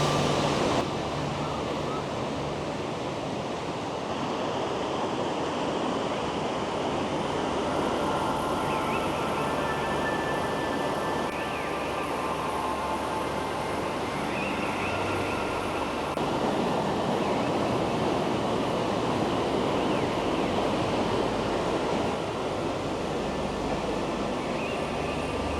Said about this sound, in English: here's a little waterfall right down there churning